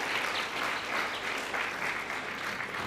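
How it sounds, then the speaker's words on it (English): Steady, dense audience applause at a local economic development innovation showcase, sustained and fairly even throughout with no voices standing out. "Let's give her a round of applause,"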